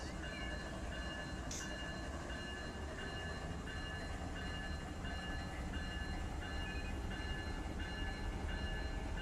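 Freight train in the Run 8 train simulator game, a continuous dense rumble with steady tonal hums and a faint periodic clatter, one brief high burst near the start.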